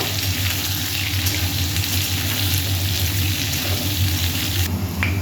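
Food for fried rice fries in a pan with a loud, steady close sizzle and occasional stirring, continuous throughout with no voices.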